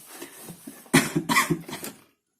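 A short burst of coughing, several quick hacking coughs in a row at close range, then silence.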